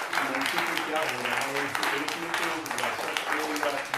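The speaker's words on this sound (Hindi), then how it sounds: "एक बार जोरदार तालियों के साथ स्वागत करिए" Applause from a Hindi comic poetry gathering (hasya kavi sammelan) greets a poet arriving on stage. The clapping is moderately loud and continuous, with voices talking over it throughout.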